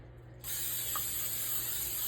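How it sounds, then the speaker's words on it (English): Butter-flavored non-stick baking spray hisses from a can onto a chicken pot pie crust in one steady, close burst that starts abruptly and continues without a break. "I'm gonna spray it with a baking spray."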